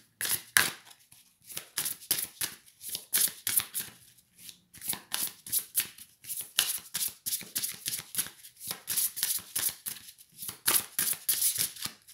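Tarot cards are shuffled by hand in quick repeated riffles and slaps, a brisk irregular rhythm of crisp papery bursts close by, with brief pauses and no talk.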